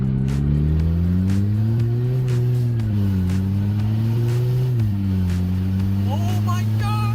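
Audi A4 project car drives and accelerates after years parked, a loud, steady engine drone inside the cabin with pitch rising and falling through revs, the car moving continuously while a voice briefly speaks near the end.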